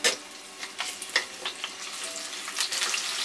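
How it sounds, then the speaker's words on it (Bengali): Chopped onions frying in oil in a pan for a spinach and prawn curry, a soft steady sizzle with faint crackles and a few scrapes, quiet and close with no talking. "এটা আমি একটু হালকা ভেজে নিব,"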